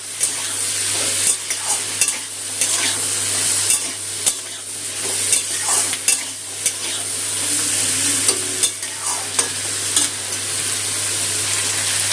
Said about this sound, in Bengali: নুন হলুদটা দিয়ে আলুটা একটু ভালো করে ভেজে নেব।